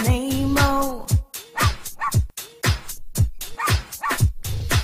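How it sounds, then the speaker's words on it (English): A dog barks in a rapid run of loud, close yips and woofs, a dozen or more barks in quick rhythm with high whimpering tones between them. "there was a farmer who had a dog, and Bingo was his name"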